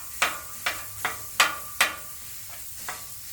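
Sausage cooking on a Blackstone griddle gives a soft steady sizzle, broken by about half a dozen sharp scraping clacks at uneven intervals, close and fairly quiet.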